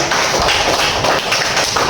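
Pupils in a classroom clapping for a classmate, a quick burst of dense, close hand claps lasting about two seconds.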